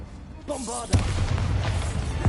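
A Bombarda spell explosion in Hogwarts Legacy: a short voice-like whoosh builds, then one loud, close blast erupts and trails into a rumbling tail, with a second smaller impact at the end.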